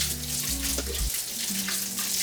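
Tap water runs into a sink over raw shrimp being rinsed for shrimp cocktail, a steady close splashing stream with shifting pitch as the flow hits the food, no talk.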